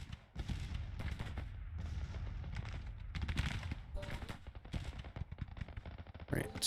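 Distant artillery fire rolls through a Grand Tactician battle, with repeated booms and crackling musketry in a dense, continuous mix of game sound effects.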